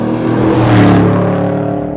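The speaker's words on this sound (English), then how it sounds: "we're able to shape the sound to give it a real distinct and unique muscle car growl" A 2010 Camaro with a Borla ATAK exhaust revs up and settles, a loud close engine note with strong harmonics that builds to a peak mid-way and then eases off.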